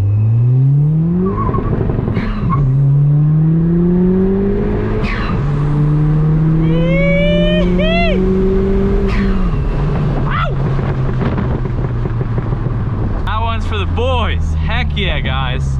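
Hybrid-turbo Ford Fiesta ST accelerating hard from the driver's seat, engine note climbing steadily through several gears with brief dips at each shift, loud and close throughout, ending in a fluttering turbo release.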